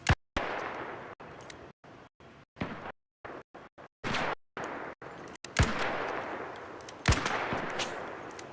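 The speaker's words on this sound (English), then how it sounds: "Return fire is insane." Return gunfire in a shooter video game: rapid, sharp bursts of shots broken by abrupt silences, with several louder, closer reports standing out among the volleys.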